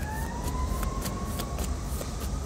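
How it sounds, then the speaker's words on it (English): Emergency vehicle sirens wail at a distance, a rising and falling tone drifting over steady background traffic noise. "And look, them sirens."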